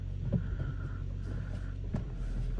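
A car engine idling just after starting, a steady low rumble with a faint droning hum and some wind buffeting, close and continuous, with no talk.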